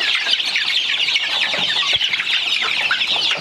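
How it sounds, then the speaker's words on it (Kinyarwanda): A flock of chickens clucks and chatters continuously at close range, a busy overlapping layer of short calls with a few low thumps beneath. "Hasi inkoko zirakurya"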